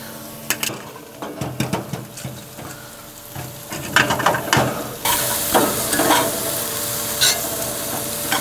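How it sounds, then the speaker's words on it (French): Shallot and garlic browning in a pan with vegetables on a Louisiana Grills LG800 Founders smoker, heard as a steady close sizzle with frequent stirring scrapes and a few utensil clinks, the sizzle growing louder and denser partway through. "Alors maintenant, on va brunir légèrement l'échalote et l'ail."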